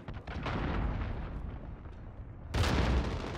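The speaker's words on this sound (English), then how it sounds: "Allied cruise missile away." Cruise missile strike explosions in the video game Call of Duty: Modern Warfare: a continuous rumbling barrage of blasts, with a sharp, louder burst striking near the end over the low roar.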